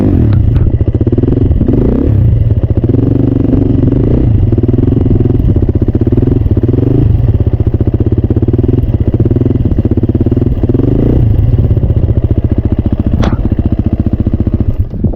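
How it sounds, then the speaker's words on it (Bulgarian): Loud motorcycle engine held at low, steady revs with rhythmic rises and dips during a slow wheelie in a circle, close by, with rattling and clatter throughout. "Както чувате, мотора прави едно брум-брум."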